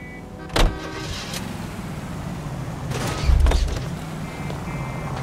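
A commandeered car in the video game L.A. Noire: a steady vehicle rumble with a mechanical whir and a couple of thumps, like doors or windows working, in a game scene.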